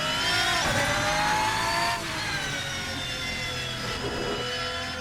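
A race car from the GT Legends mod pack for Assetto Corsa howls up through its rev range in a loud, sustained engine note that climbs, briefly drops between shifts and climbs again.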